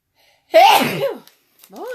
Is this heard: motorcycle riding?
no